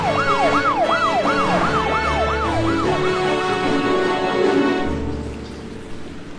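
Police car sirens in an animated show wail in a rapid rising-and-falling sweep that repeats about ten times over a rumbling background, then fade out toward the end.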